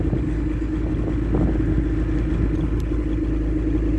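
A new pickup truck pulls up with a loud, close engine rumble, a steady low drone with a few faint clicks and knocks over it and no talking.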